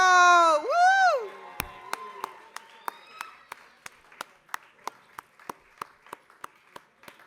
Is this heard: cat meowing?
no